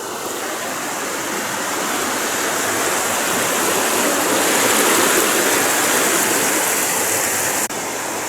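Garden Creek Waterfall on Casper Mountain, Wyoming, pouring steadily, a dense unbroken rushing roar heard up close from a footbridge, loud and constant with no voices.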